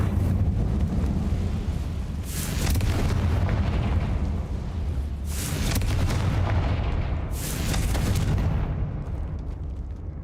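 Confringo blasting-spell explosions from a wizard game: three loud booming blasts spaced a few seconds apart, each with a crackling burst that fades, over a continuous low rumble, with no talk.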